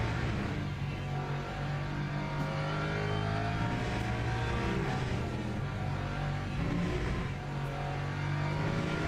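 A race car engine in a Le Mans racing video game drones steadily and loudly throughout, a continuous close-up roar with slight pitch shifts as it revs, and no talking.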